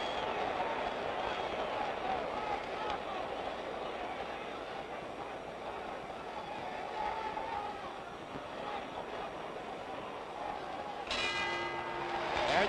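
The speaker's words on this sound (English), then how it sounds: "There's the bell ending round 11." A boxing ring bell rings out near the end, ending round 11 of the Floyd Patterson vs George Chuvalo heavyweight fight. It cuts through a steady roar of arena crowd noise, with a commentator talking throughout.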